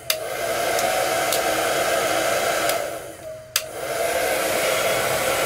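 A Revlon infrared hair dryer blows steadily, close by, as a constant whooshing hum with a brief dip and a click near the end before the airflow picks back up, with no talking.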